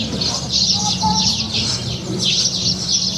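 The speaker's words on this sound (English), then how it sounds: "Hear the birds" Lively bird chirping and tweeting fills the evening air steadily in Cavtat, Croatia, with repeated high calls over a constant outdoor background.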